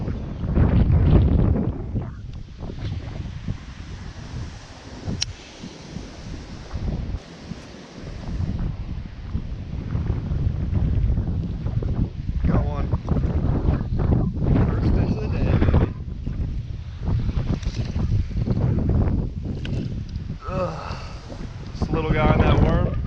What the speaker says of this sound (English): It is difficult to fish in winds like this.